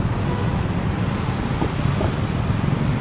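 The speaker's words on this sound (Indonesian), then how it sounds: "Wah, Depok macet sekali ini." Congested traffic on a road in Depok, heard while riding a scooter: a steady, dense rumble of cars, buses and motorbikes idling and creeping along, loud and continuous with no talk.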